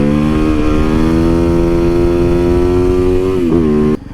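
A 2019 Yamaha YZ450FX supermoto motorcycle engine drones loud and close at steady high revs, its pitch creeping upward, with a brief dip near the end before it suddenly drops off.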